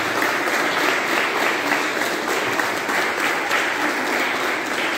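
Dense, steady applause from a church congregation fills the whole stretch, loud and close with no break.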